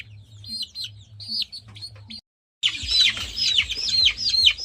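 Native-breed chicks at a fowl pox vaccination: repeated high, close peeping chirps, a brief silent gap, then denser overlapping cheeps over a low steady hum.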